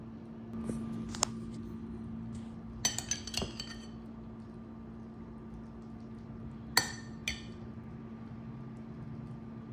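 Metal cutlery clinks against a bowl and dish while slow cooker chicken garlic parmesan is served, a few sharp, close taps and scrapes scattered over a quiet kitchen hum.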